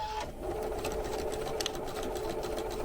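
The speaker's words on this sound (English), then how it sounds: "I'm just stitching down the center of the tape" A sewing machine stitches down the center of Chenille It tape in a steady, close, continuous hum with rapid needle clatter throughout.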